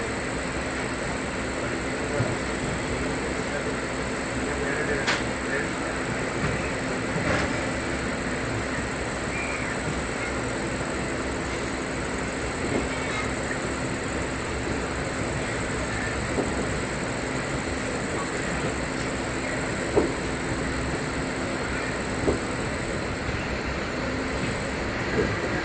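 Kannur–Yesvantpur express train running along the line, a continuous loud rumble with rhythmic wheel clicks and faint rattles throughout, heard from inside the train.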